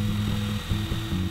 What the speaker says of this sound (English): The first step is to drill holes into the log.